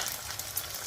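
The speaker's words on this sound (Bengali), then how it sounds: "নেওয়ার পরে এবার ফেটে রাখা ডিমটাকে দিয়ে দেবো" Beaten egg hits hot oil in a pan while a chicken roll is made, giving a brief, steady, close sizzle with faint crackling throughout and no talk.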